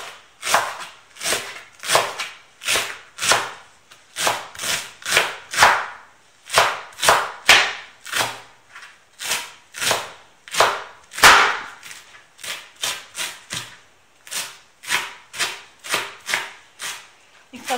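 A knife finely chops celery on a cutting board for Moroccan harira, sharp close knocks in quick runs and short clusters with brief pauses between, no talking over them.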